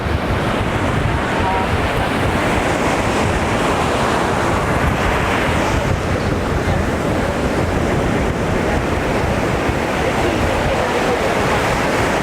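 Ocean waves break steadily and loudly around a 92-foot Viking boat beached on a Florida shore, a continuous roaring surf mixed with heavy wind buffeting the microphone.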